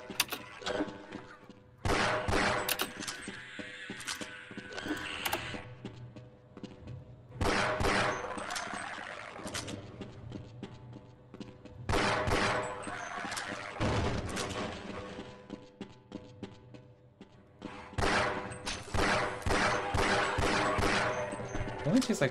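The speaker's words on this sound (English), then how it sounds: "Like 5 pistol rounds to down a bull squid." Pistol fire aimed at a bull squid in the game Half-Life arrives in several clustered bursts of sharp shots, separated by short pauses, with game noise between them.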